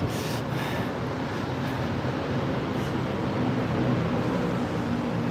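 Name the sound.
train passing in Bangkok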